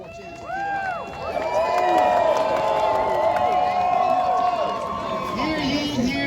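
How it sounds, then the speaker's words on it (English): An outdoor crowd at a Groundhog Day event at a Georgia nature center cheers, whoops and applauds continuously, with children's shouts and voices mixed into the loud, sustained noise. "Let's give him a real big round of applause"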